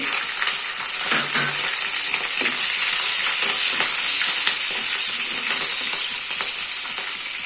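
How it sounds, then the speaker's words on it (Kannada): Mustard seeds and green chilies fry in hot oil, a loud, close, unbroken sizzle with a bright crackle running through it. "ಎಣ್ಣೆ ಕಾದ ನಂತರ ಸ್ವಲ್ಪ ಸಾಸಿವೆ ಹಾಕೊಳ್ಳಿ, ಹಸಿಮೆಣಸನ್ನು ಹಾಕೊಳ್ಳಿ"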